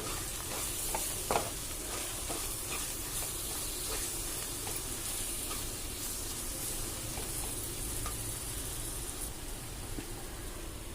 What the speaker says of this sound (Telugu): ఇవి వేసేసుకుని ఒకసారి బాగా కలుపుకుందాము